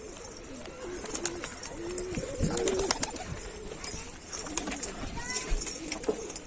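Pigeons coo and flutter in a rooftop coop holding breeding birds and newly arrived young being settled in, with repeated soft low coos near and far and occasional chirps, while someone talks over them.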